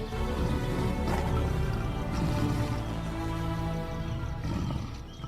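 Big predators on the African savannah give a deep, sustained roar that rumbles steadily and fairly loud through the whole stretch, fading slightly toward the end.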